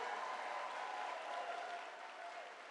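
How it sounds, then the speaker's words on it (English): A town hall crowd in Bedford, Pennsylvania applauds a guest: dense, sustained clapping from many hands, loud and even throughout, with a faint murmur of voices underneath. "Let's give another round of applause to Tulsi Gabbard."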